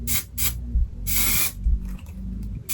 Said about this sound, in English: I spray it